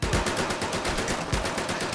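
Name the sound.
gunfire in the video game Medal of Honor: Above and Beyond VR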